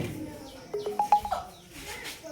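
A mobile phone rings during a class 10 trigonometry lesson: a quick run of five or six short, bright electronic tones, moderately loud, followed by quiet room noise.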